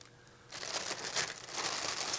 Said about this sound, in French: Et comme vous voyez ici, il y a un ruban. Et on déchire le ruban.